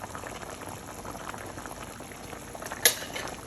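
Jamaican oxtails simmer in a pot of boiling water, making a close, steady bubbling and gurgling. One brief clink sounds near the end.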